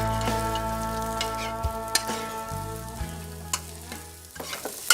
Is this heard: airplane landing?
no